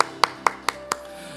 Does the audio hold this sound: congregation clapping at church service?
yes